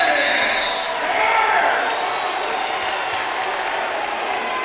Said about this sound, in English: This crowd is into it, man